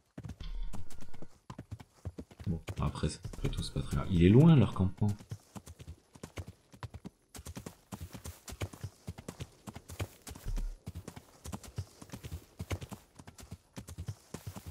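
A horse in Kingdom Come Deliverance gallops with rapid, rhythmic hoofbeats that continue steadily and close throughout, with a brief whinny early on and someone talking over the hooves.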